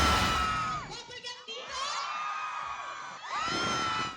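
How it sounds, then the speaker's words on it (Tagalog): Fans at a mall show greet the cast of the upcoming GMA prime series Never Say Die with loud shouting and high-pitched screaming, a dense crowd roar that briefly dips before swelling again. "Sinalubong ng malakas na hiyawan at tilian ang cast ng upcoming GMA's Prime Series na Never Say Die"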